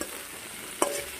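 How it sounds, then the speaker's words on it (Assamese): Sliced potatoes and okra frying in a pan, giving a steady close sizzle broken by one sharp stirring clink near the end of the brief moment. "চিটিকৈ আলু কাটি আলু ভেন্দি ভাজিছোঁ"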